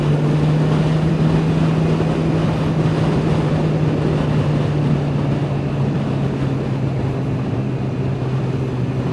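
A motorcycle in top gear cruising through town at around 60 km/h, its engine a steady loud drone with constant wind and road noise.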